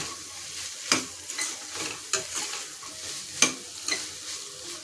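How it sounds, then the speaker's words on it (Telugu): Spicy chickpeas with freshly chopped coriander being stirred in a pan, with several distinct spoon scrapes and knocks spaced over a steady soft sizzle, close and fairly loud, no voices. "ఇలా వేసుకొని మళ్ళీ మిక్స్ చేయాలి."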